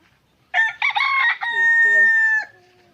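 A black native rooster on a backyard farm crows loudly and close up, one full drawn-out cock-a-doodle-doo call, with faint clucking beneath the long final note.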